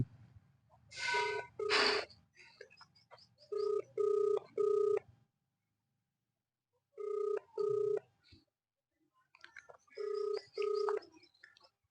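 A phone ringback tone plays in repeated pairs of electronic beeps separated by pauses, with faint breathing and rustling between rings.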